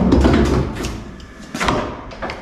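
A Volkswagen T4 van door with newly fitted locks and handles opens, giving a close mechanical clunk and latch rattle with a second thud about a second later, no voices.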